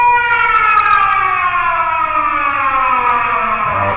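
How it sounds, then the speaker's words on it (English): Air raid siren sample triggered from the Virtual DJ software sampler, a loud, continuous wailing tone that slowly slides downward in pitch, heard alone throughout. "here's what the air raid sounds like."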